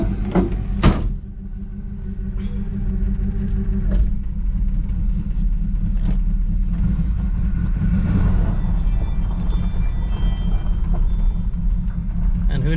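A 1963 Chevrolet Impala, revived after 35 years idle and with its hood not fully shut, rumbles slowly down a street. A door thuds at the start, then a heavy low engine drone continues, with faint voices.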